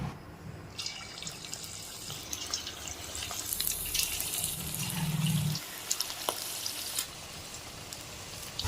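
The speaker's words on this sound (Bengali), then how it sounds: "তেলের মধ্যে চিকেন পকোড়াগুলিকে ছেড়ে দিয়েছি" Chicken pakoras frying in hot white oil give a steady, fairly quiet sizzle and bubbling hiss that runs throughout, with a few brief crackles and no voices.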